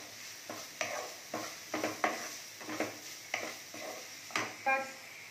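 Vegetables sautéing lightly in a pan with chopped green chillies and salt, nine or so rhythmic scraping stirs of a spatula over a soft sizzle, close and fairly clear, with no voices.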